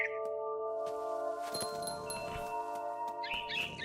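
Bird chirping in the video game What Remains of Edith Finch: a few short, high twittering calls come in near the start and again near the end, heard over a steady tonal game ambience with faint rustles and no voices.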